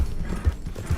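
Horse hooves clip-clop on the ground in the Red Dead Redemption 2 video game, a few quick, close thuds within a single second.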